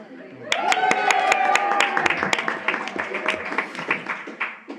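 A room of people at an educational activism forum claps and cheers, a rapid burst of clapping that swells quickly and then thins out, with voices mixed in.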